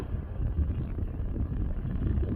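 Wind buffets a microphone outdoors after heavy rain on a road toward Khao Sok National Park, producing a steady low, fairly quiet rumble with no voices.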